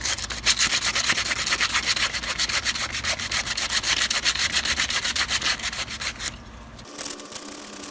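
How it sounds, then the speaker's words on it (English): Steady, rhythmic abrasive rubbing of sandpaper removing powder coat from a beach cruiser bicycle frame, loud and close, continuing for several seconds before abruptly stopping near the end. "while I'm like sanding here, it's just a whole bunch of powder everywhere"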